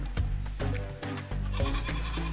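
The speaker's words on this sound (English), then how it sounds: "conquering my fear of feeding goats" Tiny baby goats on a farm bleat repeatedly at close range, their loud wavering cries overlapping one another with little talk in between.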